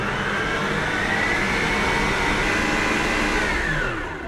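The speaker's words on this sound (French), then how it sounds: "je mets ça dans mon batteur et vitesse maximum jusqu'à complet refroidissement" Stand mixer whipping Swiss meringue at maximum speed, a loud, steady motor whine that holds at one pitch for about four seconds and drops slightly at the end, with no talk.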